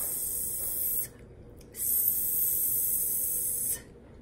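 A voice imitates a snake's hiss with two long, steady, breathy hisses, one short and one longer after a brief pause, close and fairly loud, with no other sound.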